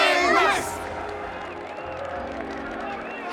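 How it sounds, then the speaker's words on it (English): Crowd cheering and clapping at an in-game celebration in Honkai Star Rail, a dense steady roar of many voices with a louder burst at the start, continuing under the scene. "Let us gift our applause and cheers to these brave and dauntless Nameless."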